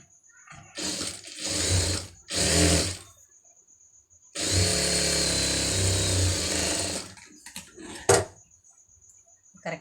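A sewing machine stitches fabric piping for a blouse, running in short bursts and then in one longer steady run of about three seconds, loud and close, with brief pauses between runs.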